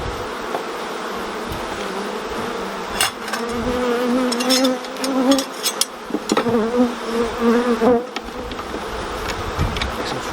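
Honeybees in an open beehive during a UK beekeeping inspection: a dense, close buzzing swarm with rising and falling wing tones, broken by a few sharp clicks and knocks of frames being handled.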